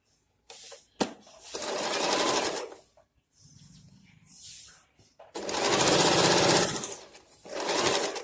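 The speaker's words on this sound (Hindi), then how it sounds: "वहां से हम ऊपर की साइड सिलाई लगाएंगे।" A sewing machine stitches along the top side of a trouser pocket in two long, steady whirring runs and a shorter burst, close and loud, with brief pauses and handling noise between them.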